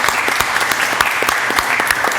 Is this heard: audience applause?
yes